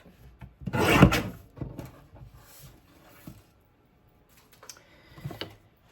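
Paper for a page kit is trimmed with a cutter, a sharp rasping slide near the start followed by quieter scraping and clicking touches, close and alone.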